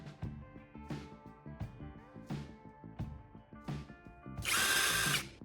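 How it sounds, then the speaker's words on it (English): A power drill whirs in short repeated bursts, stopping and starting at a steady rhythm, before one longer, harsher grinding burst as the bit bores into the bottom of an empty Coke can; fairly faint overall. "Using a drill, I'll carefully make a hole in the center of the can's bottom."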